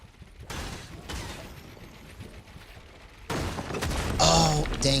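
Bursts of gunfire from a PS5 shooter game crackle in quick fusillades, fairly quiet at first and then louder and denser toward the end.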